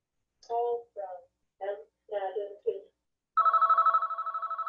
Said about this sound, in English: I'm waiting for the phone to stop.